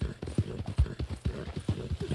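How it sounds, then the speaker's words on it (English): Horse hooves clip-clop in a steady trotting rhythm in Red Dead Redemption 2, close and fairly loud, with a short whinny mixed in among the footfalls. "Your horse is agitated by a predator."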